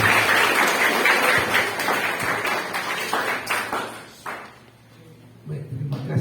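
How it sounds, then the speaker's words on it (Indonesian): Applause from an audience at a school anti-bullying workshop for the acting principal of a vocational high school, steady clapping that fades out toward the end, followed by a voice starting to speak. "Kita kasih aplaus dulu untuk Bapak PLT."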